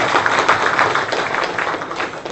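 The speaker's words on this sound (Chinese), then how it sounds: "现在我们热烈掌声欢迎吴教授" A university lecture audience applauds to welcome a visiting professor, giving a dense, steady wash of clapping from many hands that holds loud and even throughout, with no speech over it.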